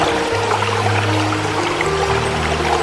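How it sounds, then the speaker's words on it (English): Running water pours and gurgles steadily, a continuous close splashing flow like a forest stream, with a low hum beneath. "Streams flowed with clearer, brighter sounds."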